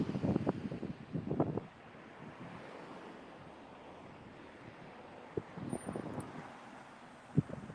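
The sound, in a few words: strong wind outdoors in San Francisco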